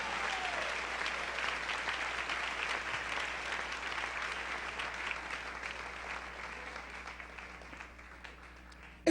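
Congregation applauding during a church service, a steady dense wash of many hands clapping that continues evenly for the whole stretch and cuts off abruptly at the end.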